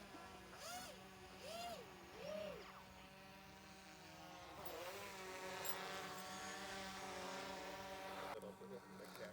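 RC fixed-wing model plane, the Killer Whale, buzzes steadily as it approaches to land, its motor whine rising and falling in pitch, with people talking over it.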